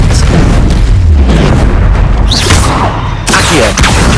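Expelliarmus spell blasts in Hogwarts Legacy combat against a Quagmire Troll: loud, rumbling booms, with a fresh sharp impact hitting about three-quarters of the way through.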